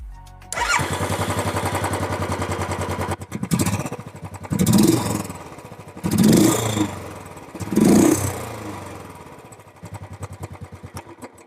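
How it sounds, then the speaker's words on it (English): A 2020 Royal Enfield Classic 350 Dark Edition single-cylinder motorcycle starts and idles with a steady thumping exhaust, then revs up three times in loud bursts before settling back to idle. "let us first hear the exhaust note. And I'm going to start with the 2020 Dark Edition."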